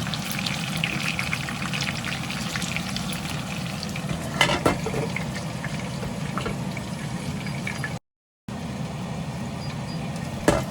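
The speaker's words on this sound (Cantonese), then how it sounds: "好啦，炸埋呢個第4面呢" Pork belly, boiled then shallow-fried one side at a time in hot oil in a wok, its fourth side propped against the wall. A steady, close sizzle runs throughout, with a few sharper crackles and one brief drop-out.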